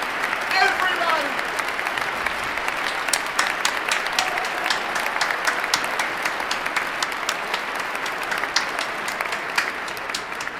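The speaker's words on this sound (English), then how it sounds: "They're all standing and applauding." A standing audience applauds at a presidential inauguration event, a loud, dense and steady wash of clapping that carries on throughout, with crowd voices mixed in.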